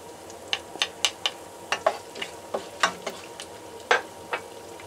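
Crushed garlic sautéing in a pan for teriyaki tilapia, heard as a run of sharp, crackling bursts and spatters at close range, with a steady faint sizzle underneath and no talking.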